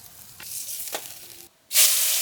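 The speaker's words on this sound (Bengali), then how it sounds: "মাছটা ঠিকভাবে ভাজার জন্য তেলটা একটু ঘুরে ঘুরে কড়াইটা কাজ করে দিতে হয়" Katla fish fries in oil in a wok, a steady sizzle that cuts out briefly and then bursts back much louder and hissier.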